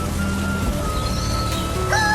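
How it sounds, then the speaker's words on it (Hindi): Light morning rain falling over a village after a night of rain, a steady soft patter with faint tonal background sounds. "अगली सुबह बारिश हल्की हल्की हो रही थी।"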